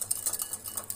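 Yogurt stirred in a bowl for besan dhokla batter, a quick run of soft, rhythmic scraping clicks from a utensil against the bowl, faint and close.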